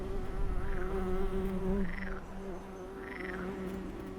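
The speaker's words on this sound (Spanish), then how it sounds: "con los enjambres de zancudos surcando los cielos" A swarm of mosquitoes buzzes as a steady, droning whine, with a few faint rising and falling tones over a dense hum.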